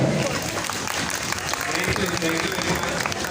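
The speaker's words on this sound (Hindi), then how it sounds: "ताली होनी चाहिए जरा" Audience applause at a beauty class event in Faisalabad, a dense continuous patter of many hands clapping, with a voice speaking over it.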